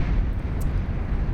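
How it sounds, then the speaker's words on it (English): A Calamity heavy cannon in the real-time strategy game Beyond All Reason fires with a loud, sustained roar of broadband rumble that lasts through the moment and has no talk over it. "a very, very loud cannon"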